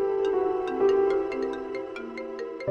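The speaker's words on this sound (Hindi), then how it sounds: "फिर परेशान होकर मुझे कॉल कर रही है क्योंकि तुमने फोन नहीं उठाया" A mobile phone rings with an incoming call, playing a repeating melodic ringtone with bright chiming notes. It rings steadily and fairly close for the whole stretch, with no one talking over it.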